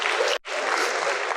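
An audience claps through a talk by a spiritual teacher on AI and jobs: dense, steady applause that breaks for an instant, then goes on at full strength.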